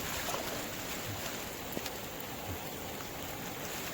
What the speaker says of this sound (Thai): ฝนตก นะครับเนี่ย